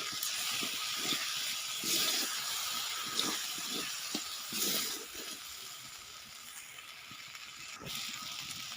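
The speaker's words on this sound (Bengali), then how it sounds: "এটা দিয়ে আবারও আমি এটাকে নাড়িয়ে নেব।" Potato dum spice paste with crushed garam masala is stirred in a hot pan, giving a steady close sizzle and hiss broken by soft scraping knocks of the spoon.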